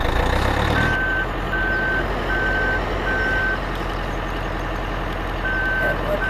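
Reversing beeps from a snow groomer in the video game Ski Region Simulator 2012, a regular string of evenly spaced electronic tones over a low engine drone, with a short pause before the beeping resumes near the end.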